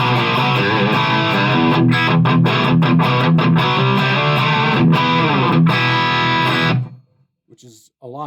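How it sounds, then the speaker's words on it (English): Electric guitar played through a Blackstar Silverline Deluxe 100-watt head with the gain at minimum, giving a loud, low-gain distorted tone; strummed chords ring continuously for about seven seconds, then cut off into near silence. "So with the gain all the way down, that's the level of, you know, distortion you're getting out of this thing."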